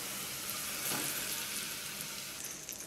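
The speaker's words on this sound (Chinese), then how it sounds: "倒入刚刚离火的热油" Freshly heated oil poured onto a small bowl of flour, giving a loud dense frothy sizzle that holds steady for a few seconds and eases slightly at the end, heard alone.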